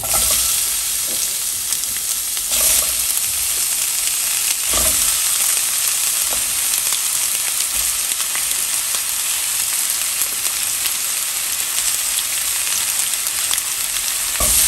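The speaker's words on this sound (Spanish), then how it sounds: "En un sartén vamos a agregar un poquito de aceite. Vamos a empezar a agregar la cebolla." Onion frying in a little oil in a pan for a cheap home recipe, a loud, steady sizzle with occasional stirring scrapes, heard alone and close.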